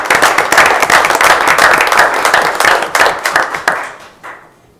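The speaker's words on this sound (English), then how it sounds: "So, round of applause for those guys." Audience applause at a village council meeting, a close round of clapping from a small group of people, loud at first, then thinning to a few last claps and fading out.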